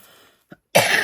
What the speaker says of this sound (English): poor you who has to have to listen to my coughing